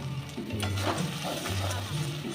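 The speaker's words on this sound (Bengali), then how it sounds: "দিয়ে ভালো করে কষে নেব খুব ভালো করে কষে গেছে" Chicken with turmeric, spices and salt sizzles steadily in a pan and is stirred, a close, continuous frying hiss with soft scraping.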